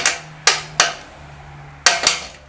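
A bolt is hammered through on a BM 250 trials motorcycle: five sharp, loud metallic hammer strikes in two groups, close up with a faint hum between blows and no talk.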